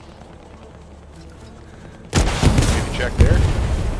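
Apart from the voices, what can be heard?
tank shells firing and exploding in video game Hell Let Loose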